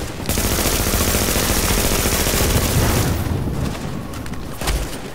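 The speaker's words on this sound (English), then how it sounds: "I'm actually going to switch to the SMG." Rapid, sustained SMG fire in a shooter game, a dense, loud stream of shots running almost continuously for about three seconds before thinning into scattered bursts.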